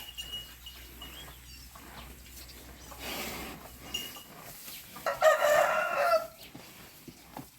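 On a Thai farm, chickens cluck softly amid quiet rustling before a rooster lets out one loud, close crow near the end.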